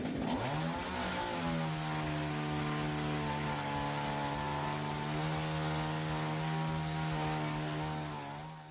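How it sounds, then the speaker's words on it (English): A chainsaw roars steadily at full throttle through a floor around a wooden post, a loud droning whine that holds for several seconds before briefly bogging down at the very end as it hits a nail. "That spark there was a chainsaw hitting a nail."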